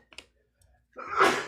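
A single sharp sneeze bursts out near the microphone after a couple of faint clicks and a quiet breath, loud and brief, then trails off.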